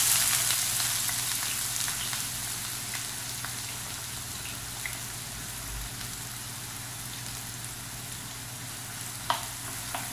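Onion sizzling in hot oil in a pan, a steady, close crackling hiss that stays even throughout, with occasional small pops and no talking.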